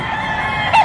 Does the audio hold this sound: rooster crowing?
yes